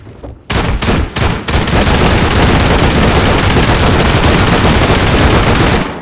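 Sustained bursts of automatic gunfire from a firefight in the game Rust, loud and dense, rattling almost continuously for several seconds after a few brief opening shots.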